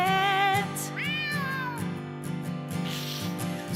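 A cartoon cat in a snowy children's show meows twice, bright drawn-out cries with a rising-then-falling pitch, over a light rhythmic musical backing.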